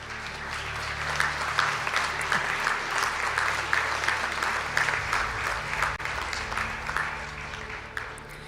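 Sustained applause from an indoor audience at a graduation conferring ceremony in Donegal, dense steady clapping that holds for several seconds before easing slightly toward the end.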